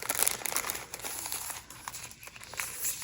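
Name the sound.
package of labels and envelopes being opened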